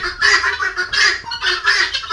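Chickens on a poultry farm in Jamalpur, clucking and squawking in loud, close, repeated bursts of several overlapping birds with short pauses between.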